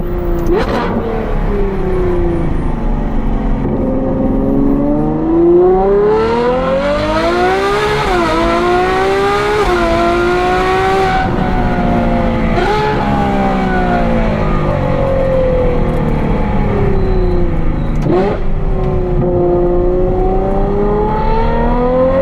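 Ferrari 812 V12 engine, tuned to over 800 horsepower, howling continuously as the car drives a circle, rising and falling in pitch with repeated surges of revs, loud and close.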